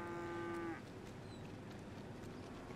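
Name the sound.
cattle mooing, GTA 5 roleplay video game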